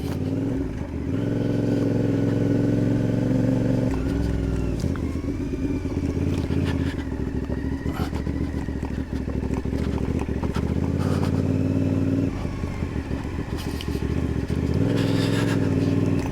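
A sports motorcycle rides slowly over rough, stony farm ground near an entrance, its engine note steady and close with irregular knocks and rattles as the wheels hit stones, and no talking.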